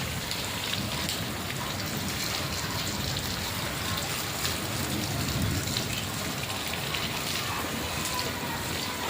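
Rainwater pours steadily off a flat roof during an unseasonal summer downpour, a dense continuous wash of splashing and trickling water that stays loud and even throughout.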